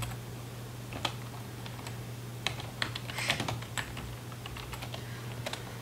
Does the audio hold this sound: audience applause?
no